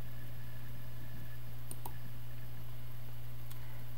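A few sharp, isolated computer mouse clicks on a Windows 7 PC, sparse single taps spread over a few seconds against a constant low electrical hum.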